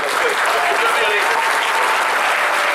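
Sustained audience applause at a youth trophy ceremony in Neufchâteau, a dense, steady wash of many hands clapping at once, loud and even for the whole stretch with no voices standing out.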